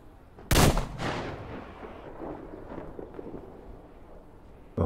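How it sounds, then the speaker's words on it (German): A single loud, sharp sniper rifle shot in the video game Metro Exodus cracks out early, followed by a long rolling echo that fades slowly into quiet. "das soll wohl eine Sniper sein, oder? Vom Sound her."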